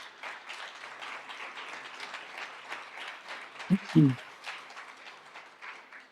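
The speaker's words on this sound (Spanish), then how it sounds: "¿Por qué no le das un fuerte aplauso a Dios en esta mañana?" A church congregation applauds during a Sunday morning service, a steady wash of clapping from many hands at moderate level throughout, with a couple of louder low thumps near the middle.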